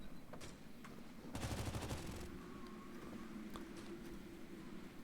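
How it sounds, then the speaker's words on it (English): Gunfire in the tactical shooter Rainbow Six 3 Raven Shield during a hostage rescue, with a short burst of rapid automatic shots amid scattered single distant cracks over a low ambient hum. "I can still hear shooting."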